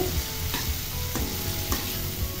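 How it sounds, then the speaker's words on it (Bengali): Spices for a bottle gourd peel dish with egg and shrimp sautéing in a pan, a steady close sizzle with a spatula stirring and scraping in regular strokes. "এখন আমি একটু কিছুক্ষণ কষিয়ে নিচ্ছি"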